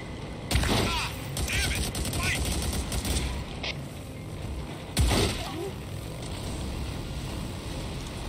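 Gunfire in Days Gone aimed at a motorcycle's tires, with sharp bursts of shots landing among steady engine and vehicle noise, with a louder volley near the start and another partway through.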